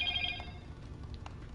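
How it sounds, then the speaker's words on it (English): A phone gives off a short burst of high electronic tones, loudest at the start, then fades into a few faint chirps over a low background hum. "Phone's making funny noises."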